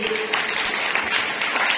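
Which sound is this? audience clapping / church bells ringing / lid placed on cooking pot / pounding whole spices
audience clapping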